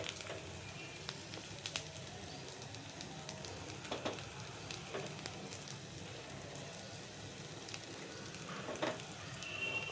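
Egg and onion mixture frying in oil in a pan, a steady soft sizzle with scattered crackles and pops throughout, fairly quiet and continuous.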